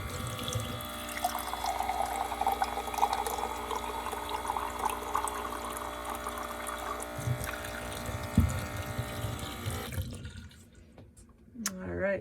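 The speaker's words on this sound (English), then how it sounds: "I am going to take a cup and wet all around there to make sure it doesn't leak." Water pours from a cup around the seal of a newly installed sink in a small cabin, giving a steady splashing flow for about ten seconds, then a few drips and light handling clatter.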